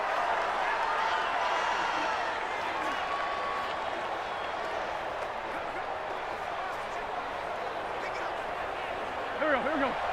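Stadium crowd noise in the Madden 20 football video game, a constant roar of cheering and applause that carries on steadily under a commentator's voice.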